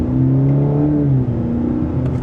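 A 2026 Cadillac CT4 V-Series four-cylinder accelerating hard in sport mode with paddle shifters, a loud continuous engine drone rising in pitch, steady and close with no talking.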